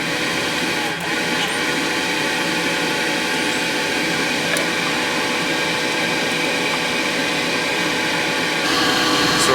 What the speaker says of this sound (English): So I just simply hooked up our blower, plugged it into the battery.